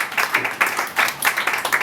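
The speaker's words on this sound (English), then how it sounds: "A round of applause." Brief burst of audience clapping at a celebration in a Lagos venue, quick uneven claps from a small crowd, fairly close and lasting under two seconds.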